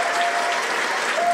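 A crowd applauds at the 2018 International 9-Ball Open semifinal pool match. Dense, steady clapping fills the short stretch, loud and even from start to finish.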